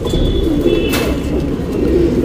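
A male Chikkaballapur pigeon coos in a low, steady, rolling drone close by, with a brief sharp sound partway through and no talking.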